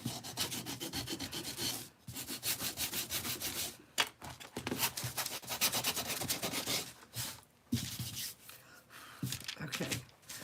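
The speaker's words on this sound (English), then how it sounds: "I just sand the part that's going to sit up front. So I'm just distressing this just a little bit." A wooden craft piece gets distressed by hand sanding, which makes close, rhythmic scratchy rubbing strokes in bursts with short pauses.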